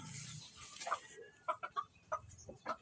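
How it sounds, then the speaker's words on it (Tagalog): Several hens cluck nearby in short, repeated bursts, each a quick pair or triplet of sharp notes, with rustling farmyard background and no talking. "Meron na kami nito mga inahin."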